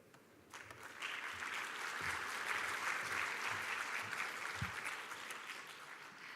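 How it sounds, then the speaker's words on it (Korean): Audience at a blockchain conference breaks into sustained applause after a talk, many hands clapping in a dense, even wash for several seconds before tapering off. "좋은 강연 들려주신 마룬 젤레그 대표님께 다시 한번 큰 박수 부탁드리겠습니다."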